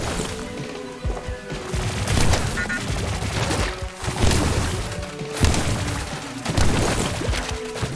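Rapid, loud bursts of gunfire from the shooter game High On Life come in repeated volleys with booming impacts and crashing debris, nearly continuous throughout.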